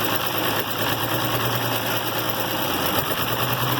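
An International Harvester Farmall 706 tractor engine idles on a newly fitted, freshly adjusted carburetor, a steady low rumble with a slightly uneven beat, heard up close without any talking.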